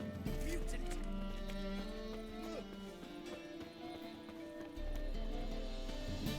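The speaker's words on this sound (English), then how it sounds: "Pero es que mi caballo me está siguiendo." In The Witcher 3 video game, horse hooves clip-clop steadily close by as the horse follows the player, under a continuous game music bed, with no talking.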